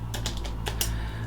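A computer keyboard is tapped while a command is entered during an Arch Linux installation: a few close, light keystrokes over a steady low electrical hum.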